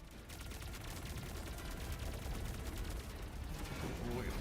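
Holocannons firing in the Wuthering Waves video game, a dense continuous barrage of rapid gunfire-like bursts rumbling steadily throughout at moderate level with no talk.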